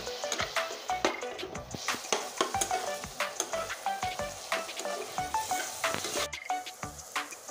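Spice paste frying in oil in a pan sizzles steadily up close, with repeated rhythmic scraping and clinking of a spatula stirring the masala, no voices.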